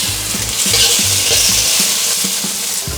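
Shrimp sizzling loudly in hot olive oil with shallots in a pan for yakisoba, with regular, rhythmic stirring knocks over a continuous close frying hiss.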